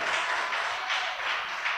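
Congregation in a church applauding together, a steady dense wash of clapping that holds evenly throughout with no voices on top.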